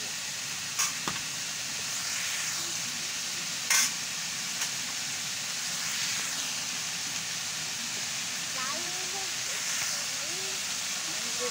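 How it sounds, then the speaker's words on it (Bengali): Pumpkin pieces and Katoa stalks fry in a pan with a steady, soft sizzling hiss while being stirred, with occasional light scrapes and faint voices in the background. "এবারে ভালো করে নাড়িয়ে নেব"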